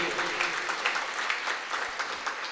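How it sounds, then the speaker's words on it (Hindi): Audience applause at a Jain sermon gathering in Chowk Bazaar, Bhopal: a dense, steady wash of many hands clapping, continuous for the whole stretch at moderate loudness with no talk over it. "सबसे ज़्यादा तो आपको उसके सम्मान में ताली बजाना चाहिए"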